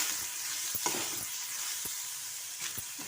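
Cumin seeds and tamarind fry in a pan for a coconut chutney, giving a soft, steady sizzle broken by a few quick scraping stirs.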